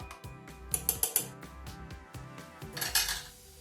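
Metal utensil scraping and clinking against a pot of white borscht in repeated strokes, close by, with a brief burst of louder clatter.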